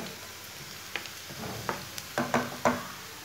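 Onions frying in a pan while cooking tinda sabzi, a steady soft sizzle with a few clinks and scrapes of a spoon stirring, close up and without talk.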